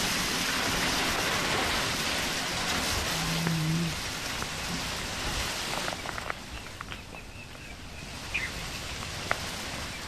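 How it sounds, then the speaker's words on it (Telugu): Steady, dense unseasonal rain hisses down over crop fields in Telangana, a broad wash of patter that fills the whole stretch, with a few scattered drips and knocks standing out near the end. "ఎంత పెద్ద ఎత్తున వాన పడుతుందో మనం చూస్తున్నాము"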